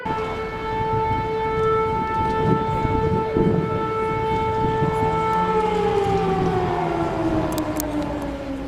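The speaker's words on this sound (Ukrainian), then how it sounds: "Звук сирени безперервний." A civil defense siren wails steadily and loudly, its tone holding constant before slowly sliding lower near the end, with a few faint clicks.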